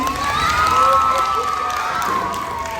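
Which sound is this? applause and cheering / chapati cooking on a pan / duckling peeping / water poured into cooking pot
applause and cheering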